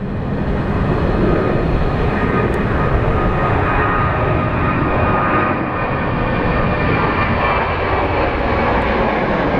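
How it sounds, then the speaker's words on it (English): A Boeing 737 jet airliner at Phoenix Sky Harbor International Airport produces a loud, steady engine roar that holds for nearly ten seconds, with no talk over it. "So our Salt Lake City 737."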